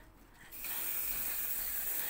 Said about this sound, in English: I'm going to spray a little bit of primer